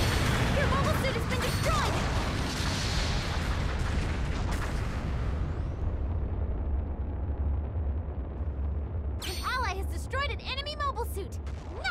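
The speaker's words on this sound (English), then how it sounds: "Bombardment incoming!" Artillery bombardment rumbles through a match of Gundam Battle Operation 2, a dense wall of booming blasts for several seconds that thins into a steady low roar, with a voice talking over the din near the end.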